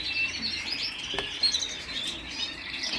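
Small birds chirp and twitter steadily in a dense, high-pitched chorus, with a faint rustle of wings now and then.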